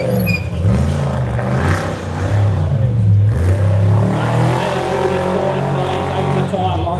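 A race car crosses the line at the Loveday 400, its engine a steady loud drone that holds throughout with a commentator talking over it.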